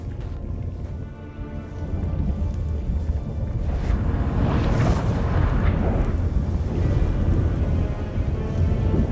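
A storm in The Witcher 3: Wild Hunt rumbles continuously, a deep, loud roar that swells and holds steady for several seconds with no voices over it.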